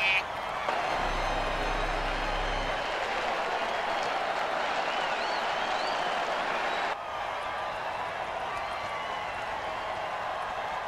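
A football stadium crowd roars and applauds in a steady, loud wash of cheering that holds for about eleven seconds and dips slightly near the end.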